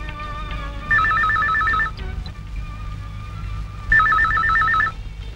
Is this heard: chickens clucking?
no